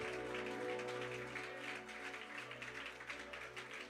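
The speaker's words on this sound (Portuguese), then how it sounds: "Pode dar uma salva de palmas bem forte para o Senhor." A church congregation claps together during a worship service, a dense, steady wash of applause over a sustained organ or keyboard drone, loud and continuous throughout.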